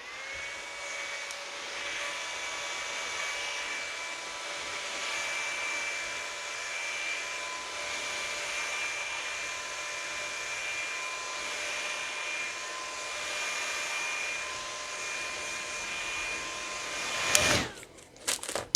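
A handheld hair dryer blows steadily at close range for nearly twenty seconds, a constant whooshing roar with a faint whine, ending in a brief clatter as it is switched off and handled.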